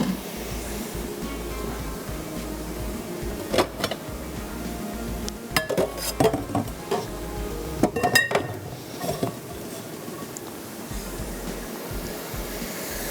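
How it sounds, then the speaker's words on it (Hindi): Yakhni, a meat stock, being strained through a sieve to separate the meat: clinks of metal and glass, scrapes and splashy sloshing come in bursts over steady kitchen background noise, with no talking. "यखनी को भी छानते हैं जब तक यहाँ पे मसाला भी भुन जाएगा"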